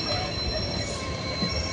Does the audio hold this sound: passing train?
yes